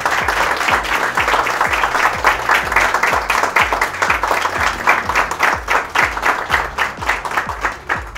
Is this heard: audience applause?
yes